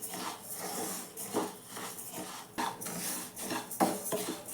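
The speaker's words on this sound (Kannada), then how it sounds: "ನಾನು ಸಿಮ್ಮಲ್ಲಿ ಇಟ್ಕೊಂಡೆ ಹುರ್ಕೊತಾ ಇದ್ದೀನಿ ಅಕ್ಕಿನ." Rice dry-roasting in a pan on a low flame while being stirred, heard as irregular scraping and clinking of a utensil against the pan, quiet and close, with no speech.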